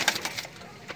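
Pigeons kept in a loft, one of them sick, give soft, brief coos and bird calls close to the mic in a short, quiet moment with no talking.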